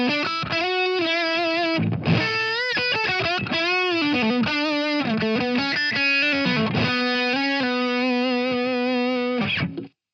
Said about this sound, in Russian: Усилитель у меня здесь выбран 70 Rock с перегрузом